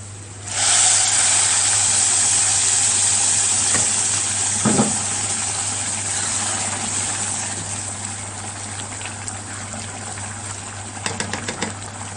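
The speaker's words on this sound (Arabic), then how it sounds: "هنزل عليه بقى بالميه السخنه" Hot water hits rice and vermicelli fried in ghee in a pot, setting off a sudden loud sizzling hiss that slowly fades into a softer bubbling simmer, with a brief clatter near the middle and light knocks toward the end.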